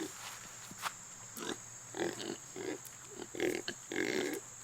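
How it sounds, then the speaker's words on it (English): Farm pigs resting in the shade let out a series of short, low grunts in irregular bursts, fairly close, over a steady background hum. "Pigs are doing good."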